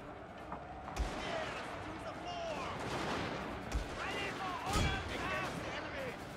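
Battle din from Total War Warhammer 2 units firing near a Gatling tower, with sporadic gunshot thumps around 1, 3.8 and 4.8 seconds over a dense bed of crowd noise, shouting and whistling sounds, and someone talking throughout.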